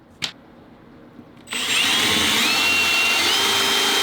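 After a small click and a brief pause, a power drill starts up close by and runs continuously at a high, steady whine as it bores into wood.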